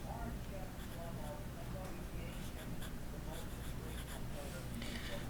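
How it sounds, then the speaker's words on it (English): A fine-nib fountain pen scratches softly across smooth Rhodia paper in faint, continuous strokes, nearly buried under steady background hiss. "I'm also writing on the Rhodia paper, which also has some of the least amount of noise to pen feedback possible"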